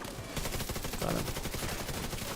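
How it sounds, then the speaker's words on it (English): Gatling gun in the video game The Division 2 fires a dense, rapid, continuous burst of loud gunfire that fills the whole stretch, with no pauses. "Fire that Gatling gun."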